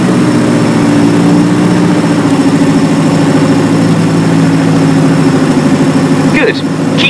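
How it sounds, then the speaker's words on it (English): A light aircraft engine held at 2100 RPM in flight, a loud, steady, droning hum that fills the whole stretch without change, with a brief dip near the end. "Set the throttle to maintain 2100 RPM."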